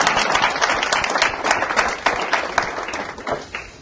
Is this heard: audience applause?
yes